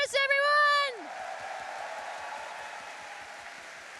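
A convention audience at a pony fan gathering applauds and cheers after a loud whooping shout, steady clapping continuing at moderate volume throughout.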